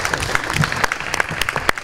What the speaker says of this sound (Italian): Un applauso a Roberto Spaccapanici.